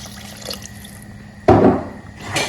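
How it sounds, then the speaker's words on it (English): Water is poured into a pot of duck meat stew, starting abruptly as a loud splashing gush that settles into a softer running pour, with a brief faint clink before it. "So I'll go ahead and add some water while we are going to cook this meat."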